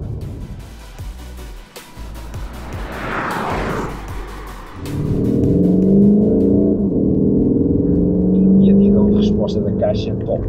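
Volkswagen Golf 8 GTD diesel with 200 hp, engine rising in Sport mode: a steady, loud drone with a low tonal hum that swells after a brief whooshing pass, continuing alone without talk.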